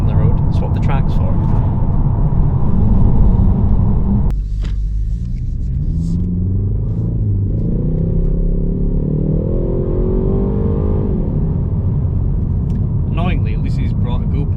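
A 1963 Jaguar E-Type's straight-six engine rumbles loudly and steadily from start to finish, with a heavier blip of revs at the outset settling into a sustained drone that rises and falls, voices talking over it.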